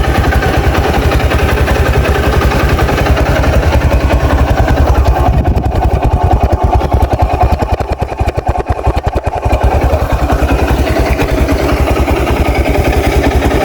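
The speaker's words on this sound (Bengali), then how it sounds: "গাড়িটি আমি স্টার্ট দিয়েছি গাড়িটি স্টার্ট অবস্থায় আছে" A new 2023 Honda X-Blade DD ABS motorcycle engine idles steadily after starting, a continuous close, loud low rumble with a brief dip in level midway and no talk.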